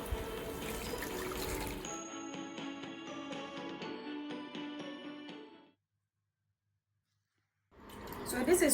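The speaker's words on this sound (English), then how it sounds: "we are going to sift it with our drink sift here" A rice- or millet-based spicy drink being poured through a drink sieve, giving a splashing, trickling pour for several seconds that fades into silence before a fresh burst of liquid noise starts again.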